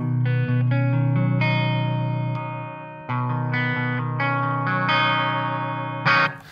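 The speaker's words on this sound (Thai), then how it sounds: "ลองฟังเสียงคลีนก่อนดีกว่าครับว่าเสียงเป็นยังไงบ้" Sustained electric guitar chords ring out with a smooth, undistorted clean tone through a Boss JB-2 Angry Driver pedal, changing chord every second or two before a final strummed chord.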